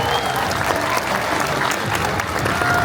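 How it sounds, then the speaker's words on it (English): A crowd outdoors at the Riding of the Marches in Edinburgh, 2025, breaks into loud, dense applause after a ceremonial firing, the clapping steady and continuous from start to finish. "Let's hear a huge round of applause."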